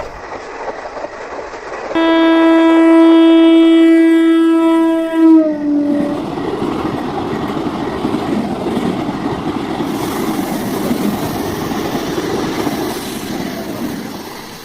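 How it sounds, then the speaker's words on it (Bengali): A train runs through darkness, opening with a loud sustained horn blast for a few seconds, then settling into a steady rolling rumble of wheels on rails that carries on to the end. "ট্রেন ছুটে চলেছে একটি অন্ধকার জগতের মধ্যে দিয়ে"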